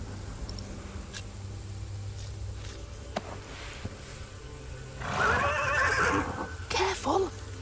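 A horse whinnies loudly in a tense historical drama scene, a harmonic neigh rising over steady background ambience, followed by a second shorter whinny.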